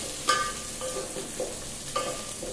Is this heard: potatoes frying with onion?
yes